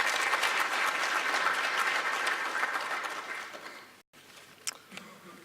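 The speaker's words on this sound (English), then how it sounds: "everyone again, please applause" Audience applause at a live-streamed event, steady clapping from a crowd that fades, stops abruptly, then gives way to faint room noise.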